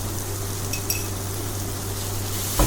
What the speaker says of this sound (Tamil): உப்பு சேர்த்து அதை நல்லா வதங்க விட்டுடலாம்